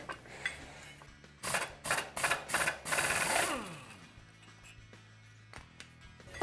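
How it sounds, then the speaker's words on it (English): An impact gun works the secondary clutch bolt on a Polaris RZR XP 900/1000: several short, sharp rattling bursts in quick succession, then quieter clicks and handling of parts. "we're going to pull our secondary clutch off, and to do that, we're actually going to use an impact gun"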